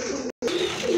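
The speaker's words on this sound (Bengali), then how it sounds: "খুবই সুন্দর এক জোড়া কবুতর" A pair of domestic pigeons for sale at a Bangladeshi pigeon market, cooing in low repeated calls close by, broken by a brief gap of silence midway, with no talk over them.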